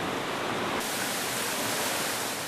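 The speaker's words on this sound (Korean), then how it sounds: "멀리서부터 들려오던 물소리, 직접 보니 더 시원했습니다." A river in Galilee, Israel, swollen by rainy-season flow, rushes in a dense, constant roar, loud and close with no pauses and no voices.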